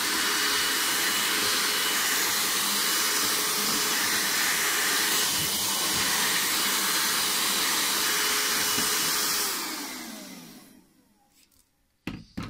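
A Bosch EasyVac 12 cordless vacuum cleaner runs a suction test in a workshop with a steady, close airy whir. It then switches off and winds down into quiet, broken by a few clicks.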